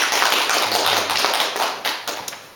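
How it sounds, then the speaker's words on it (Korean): A church congregation claps in welcome, a dense burst of applause that fades and thins into a few scattered claps by the end. "박수로 환영하십시오."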